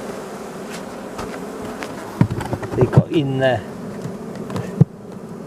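A steady honeybee buzz hums beneath a voice, with a few clunks and knocks as he works nearby at a hive in October.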